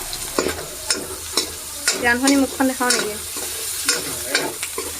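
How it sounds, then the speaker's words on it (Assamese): Onion frying in oil, with garlic and ginger, in a home kitchen: a close sizzle broken by repeated scraping stirs of a spoon in the pan, while a voice briefly speaks. "এতিয়া একেখিনি তেলতে এয়া অলপমান পিঁয়াজ ভাজি লৈছে ৰঙচুৱাকৈ"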